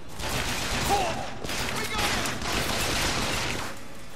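Gunshots in Bioshock Infinite ring out in a dense, loud volley of repeated blasts during combat, with a voice faintly mixed underneath.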